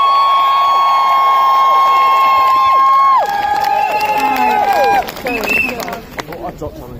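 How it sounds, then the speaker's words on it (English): A large outdoor crowd gathered in support of the Stansted 15 cheers and claps loudly. High whistles and shouts ride over the dense roar, which eases after a few seconds into scattered calls and voices. "Please give her a huge round of applause."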